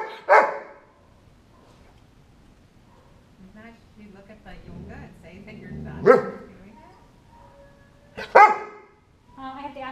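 A working dog in a relaxation training session gives three sharp, loud close barks spread several seconds apart, with a person speaking softly in between.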